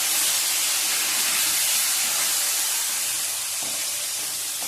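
Panch phoron spices and bay leaf frying lightly in hot oil give a loud, continuous sizzling hiss that holds steady and eases off slightly toward the end.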